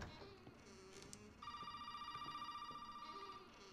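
A telephone rings in Resident Evil 7, starting partway through as a sustained electronic tone after a stretch of quieter ambient noise and small clicks; fairly faint with no talking.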